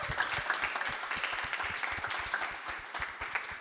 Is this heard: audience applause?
yes